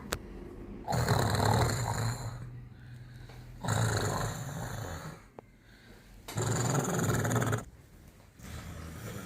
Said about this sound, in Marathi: बया भाऊजीला तर बाई झोप लागली, डराडर घोरून आली भाऊजी.